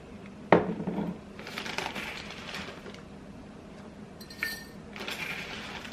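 Dry white rice is scooped into a glass mason jar, giving a sharp clink at the start followed by soft grainy pouring rustles and another small clink, close and quiet.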